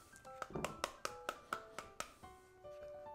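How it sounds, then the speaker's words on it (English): A halved pomegranate is struck repeatedly to knock out its seeds, giving about eight sharp, evenly spaced taps close by, each a crisp knock with a short ring, followed by a quieter stretch. "you can see how well it knocks out all of those pieces."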